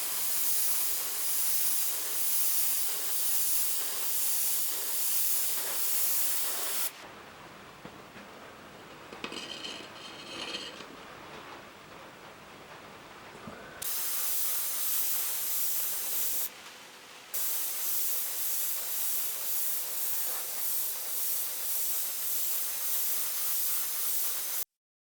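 An airbrush sprays a candy coat onto an aluminium panel in long, steady hissing passes that stop and restart, with a quieter pause in the middle. The spray sounds close and fairly loud, with no talking.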